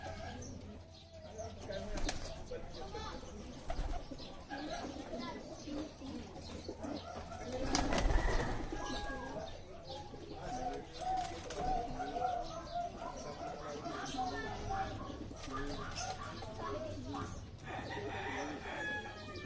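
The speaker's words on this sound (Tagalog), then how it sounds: "Ang tataba ng kalapati," Plump pigeons cooing with occasional bursts of wing flapping, a steady outdoor flock sound under light background noise and a brief louder flutter midway.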